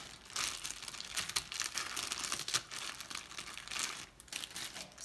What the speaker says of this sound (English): Get the baggie.